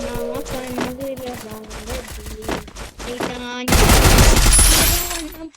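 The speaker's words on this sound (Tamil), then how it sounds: "பத்திய எனிமிக்கு ஹெட்ஷாட் அடிச்சேன்டா" Gunfire from the video game Free Fire, first a run of sharp repeated shots under music-like tones, then a loud dense burst of firing and blasts filling the last couple of seconds.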